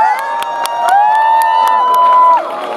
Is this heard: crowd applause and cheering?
yes